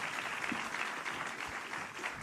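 Audience applause for the judges at an environmental excellence awards ceremony, a steady wash of clapping from a crowd filling the whole moment without a break.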